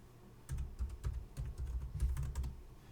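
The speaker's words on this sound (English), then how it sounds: "type this in" Quick, close clicking of keys on a computer keyboard, an uneven stream of taps with short pauses, faint and alone.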